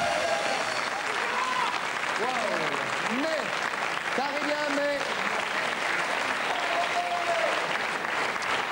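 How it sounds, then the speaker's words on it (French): A TV studio audience at a French variety show applauds steadily for the comedian Jean-Marie Bigard, a dense, continuous wash of clapping while a host's voice speaks over it. "Applaudissements."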